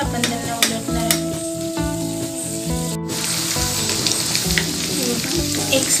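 Potato vada fritters for vada pav fry in oil over a medium gas flame, giving a steady, close crackling sizzle with a low tonal hum underneath.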